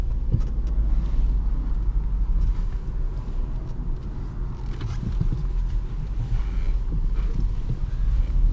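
A Jaguar XF 5.0 V8 S Premium Luxury four-door sedan on the move, heard from inside as a continuous low road and engine rumble with some wind buffeting and no talking.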